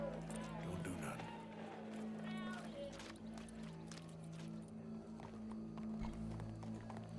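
Horse hooves clip-clop at a steady pace in Red Dead Redemption 2, quiet beneath a constant game soundscape with distant crowd noise and talking.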